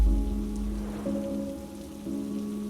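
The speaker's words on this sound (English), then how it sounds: "It was a rainy Friday night." Steady rain falls on a surface at night, a continuous close hiss with a soft sustained musical tone layered beneath it, and no voices.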